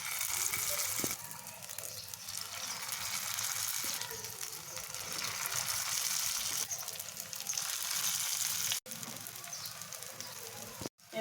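Pumpkin flower fritters crackle in hot oil in a pan, a steady close sizzle that runs throughout, with a couple of brief cutouts near the end.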